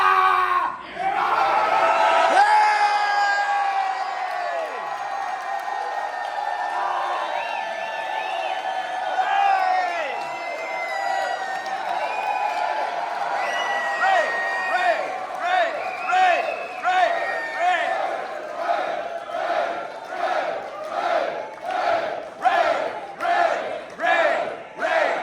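A crowd at a Cliff and Ray Burton Day gathering in Castro Valley, California, yells as loud as it can, a sustained roar of many voices that breaks into rhythmic chanting and clapping in the later part.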